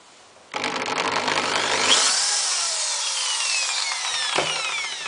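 A drill bores through a clear acrylic sheet on a workbench, a steady high whining grind that starts abruptly and runs loud and continuous for several seconds with a brief knock near the end.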